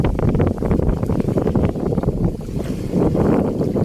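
Strong outdoor wind buffets the microphone in loud, continuous gusty rumbles, treetops tossing, with no talking heard.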